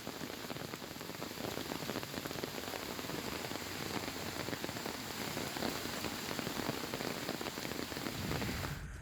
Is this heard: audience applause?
no